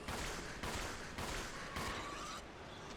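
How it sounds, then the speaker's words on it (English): Rapid bursts of gunfire crackle in several evenly spaced volleys in the video game Resident Evil Zero HD Remaster, loud and dense, with a constant noisy wash underneath and no voices. "This gunfire is really fast all of a sudden."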